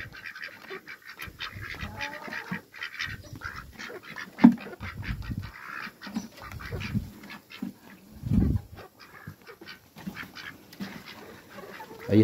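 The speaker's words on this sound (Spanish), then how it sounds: "ahí está las gallinas comiendo naranja" Hens pecking at orange pieces tossed onto the ground, with scattered clucks, soft squawks and dull pecking thumps at irregular intervals, moderately close and without talk.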